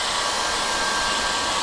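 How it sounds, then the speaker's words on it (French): A duck-shaped hair dryer blows loud and steady up close, a continuous airy roar with a faint thin whine through it, no talking. "le sèche-cheveux canard"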